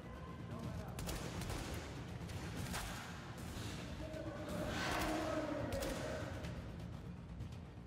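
Rapid gunfire in The Division video game, a continuous chatter of shots and impacts with a swelling burst midway, a voice talking over parts of it.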